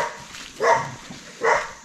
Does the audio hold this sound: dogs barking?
yes